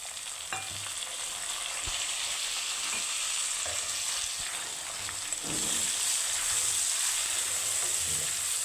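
Tomatoes going into browned onions frying in a pan: a steady bright sizzle with a couple of soft knocks, swelling noticeably louder partway through as the tomatoes hit the hot oil, with no one talking.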